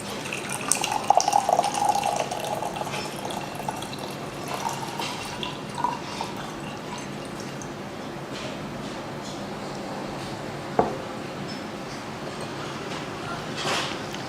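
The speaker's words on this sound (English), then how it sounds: "there is a filter, so you don't need to adjust the opening of the gaiwan, and you just need to pour." Tea pours from a gaiwan fitted with a filter as a soft, continuous liquid trickle with small splashes and faint clinks, steady over about fourteen seconds, with a little faint background sound.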